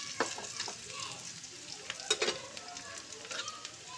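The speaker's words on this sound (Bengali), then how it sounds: "এই ফোড়নটাকে একটু ভেজে নিয়ে এতে আমি দিয়ে দেবো মাঝারি সাইজের একটা পেঁয়াজ কুচি।" Chopped onion fries in oil with dried chilli, panch phoron and cumin for a tangy aubergine pickle, a close steady sizzle broken by spatula scrapes and light clacks, with no voices.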